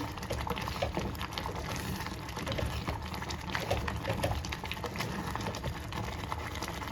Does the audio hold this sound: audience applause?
no